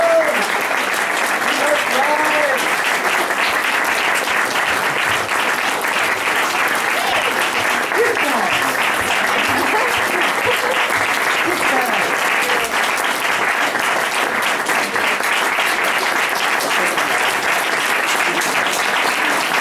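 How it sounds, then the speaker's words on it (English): Sustained applause from an audience at a university bookstore award event for writing winners, a dense, steady roar of clapping lasting the whole time with some voices mixed in. "help me to thank them with a round of applause"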